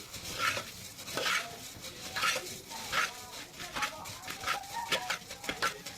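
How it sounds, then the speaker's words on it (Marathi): Puffed rice (murmura) is tossed and mixed for a raw chivda in a bowl, giving repeated close scraping, rustling strokes with a spoon clinking against the vessel in a steady rhythm, while a voice talks over it. "बघू शकता छान असं परतून परतून याला छान मिक्स करून घ्यायचं आहे"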